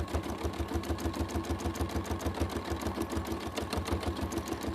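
A sewing machine stitches steadily during free-motion quilting of leaf shapes, a fast, even mechanical chatter running loud and continuous throughout.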